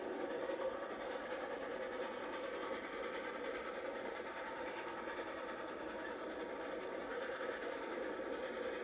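Norfolk & Western 611, a J class 4-8-4 steam locomotive hauling an excursion train with no passengers aboard, makes a steady, dense rolling roar that holds even in loudness throughout, with no distinct chuffs or whistle standing out.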